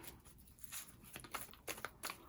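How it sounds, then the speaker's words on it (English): Tarot cards being shuffled thoroughly, very quiet and close: a run of soft papery riffles and flicks in irregular bursts, with no talking. "I just feel like I need to shuffle thoroughly."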